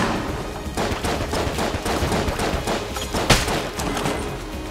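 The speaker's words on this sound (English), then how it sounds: "Now, the M1 Garand has piercing, it's powerful, has 6 shots or so, I think." Rapid gunfire in Enter the Gungeon from an M1 Garand rifle and other weapons, a dense run of loud repeated shots with one sharper crack standing out near the end.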